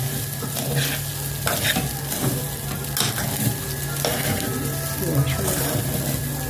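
Rice and vermicelli stirred in hot oil in a pot for Egyptian-style rice, a busy sizzle with repeated scraping strokes of a spoon and scattered clatter, close and fairly loud.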